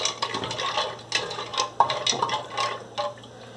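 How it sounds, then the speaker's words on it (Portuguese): Water is poured over dry pasta in a pressure cooker, making soft, irregular splashing and trickling with intermittent clinks, fairly quiet and close, without talk. "Eu vou colocar água até cobrir todo o macarrão."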